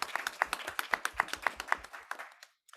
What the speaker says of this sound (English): A round of applause for Gina de Silva.